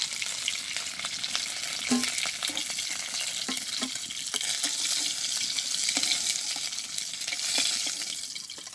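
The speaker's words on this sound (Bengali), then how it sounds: "তো আমার মাছ বেজে হয়ে গেছে আমি এখন মাছটা নামাই নিই" Fish frying in hot oil in a pan, a steady, loud, hissing sizzle throughout with scattered pops and spatters, close up and with no voices.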